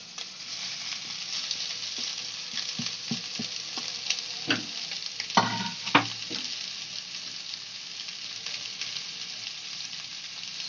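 Egg and noodles are stir-fried in a pan for egg Hakka noodles: a steady hiss of sizzling oil, broken by scattered scraping and clacking stirring strokes that bunch together midway, close up and without talk.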